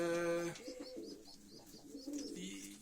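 Pigeons coo softly in a low, rolling rhythm inside a coop with young birds in winter, several calls overlapping nearby, with faint chirps and a brief higher tone at the start.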